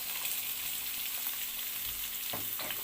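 Onions sizzle and fry steadily in oil and ghee in a pan, a continuous close crackle with a brief stir or jostle near the end and no voices.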